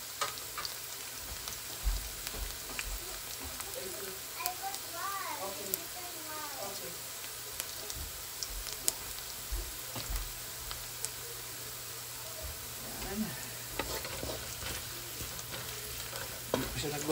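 Pork for pork igado stirred and frying in a pan, with a steady close sizzle and repeated scraping stirs throughout; a voice is heard briefly in the background.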